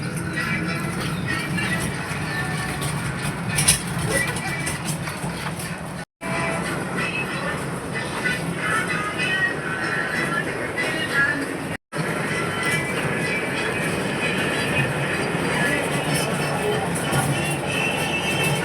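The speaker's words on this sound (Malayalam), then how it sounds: "ബാ ട്രെയിന് വാടാ, ട്രെയിനിൽ കയറാം." A passenger train ride, heard from inside a carriage as a steady rumble and rattle of wheels on track with faint squeals. Two brief dropouts break the sound, and people talk quietly in the background.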